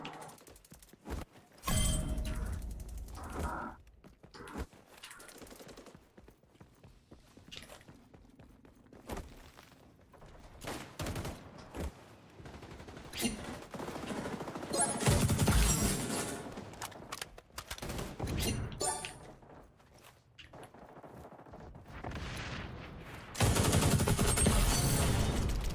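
A video game gun fires in repeated bursts and single shots across nearly half a minute, with quieter gaps between volleys, occasional footstep-like clatter, and louder sustained firing toward the middle and end.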